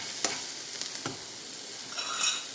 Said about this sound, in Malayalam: നമ്മൾ ചെറുതായിട്ട് കിണ്ടി കൊടുക്കണം